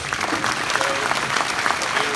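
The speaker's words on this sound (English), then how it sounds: "About another round of applause for Miss Nagel." At a Memorial Day ceremony in Enid, an audience gives a steady round of applause, many hands clapping continuously at moderate loudness with faint voices beneath.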